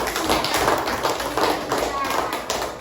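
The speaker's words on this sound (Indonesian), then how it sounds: "tepuk tangan dulu untuk kita semua, untuk anak-anak" A classroom of children and adults claps in a dense, continuous burst of applause, close and loud, with voices mixed in.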